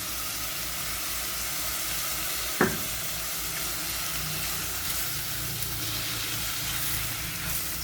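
Vegetables with about two spoonfuls of peas sautéing in a pan for a meatless pumpkin cream with cassava and broccoli, giving a steady, even sizzle throughout with one brief sharp tap partway through.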